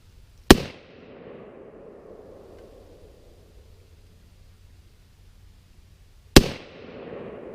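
Two sharp, loud blasts a few seconds apart, each from a rifle shot setting off one pound of tannerite downrange, each followed by a long, fading rumbling echo.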